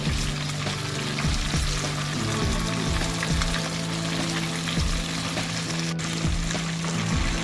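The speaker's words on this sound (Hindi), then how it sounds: "इसी तरह हमने ये सारी मछली को फ्राई कर लेना है" Pieces of fish frying steadily in hot oil, a continuous close sizzle with soft clinks and stirring knocks of a utensil scattered throughout, no voices.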